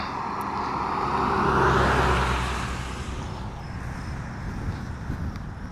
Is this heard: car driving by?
yes